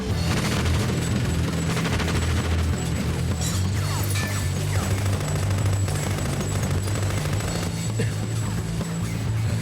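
Dense, sustained gunfire and crashing booms in a Tekken 4 cutscene on PlayStation 2, a loud continuous barrage layered with heavy low rumble throughout.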